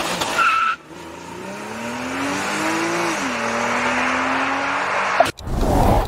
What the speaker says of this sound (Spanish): Correcto. Se trata de un Porsche Cayman S981.